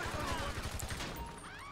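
Rapid bursts of gunfire in a shootout in the video game GTA 5, a dense crackling volley at moderate level fading into a busier mix of game sounds.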